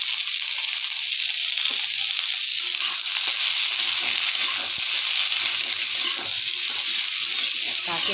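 Amla roasting in a pan while being stirred, a loud continuous sizzle with scraping and rustling throughout, no voices.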